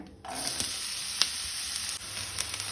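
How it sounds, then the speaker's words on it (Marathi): Finely chopped onions hit two spoons of hot oil in a pan for a Goan chicken recipe, giving a sudden steady sizzle that continues evenly with small pops and crackles, close and moderately quiet. "तेल तापले तशें तातूंत हांव कानो घालता"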